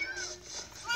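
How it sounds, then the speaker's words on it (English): A Minecraft Pocket Edition cat meows in a steady, moderately loud call lasting about a second, with a thin synthetic video-game tone and faint background activity. "you just have to spawn so many cats in my house"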